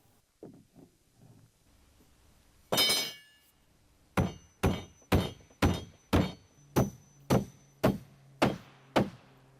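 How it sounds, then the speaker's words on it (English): Hammer blows drive nails into flat 2x4 blocking on a shed wall: after a few soft knocks and one clatter, about ten sharp, evenly spaced strikes ring out close and loud, with no talking. "And nail down 2 2x4s on the flat as blocking for the eave trim."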